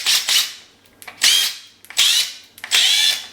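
A power drill drives screws into a cupboard in four loud, close bursts, each a rising whine cut by short pauses.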